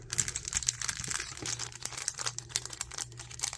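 A small bag of tea is folded for a craft-fair favor, with soft crinkling and crisp paper rustles in quick irregular bursts, close and quiet, with no talking.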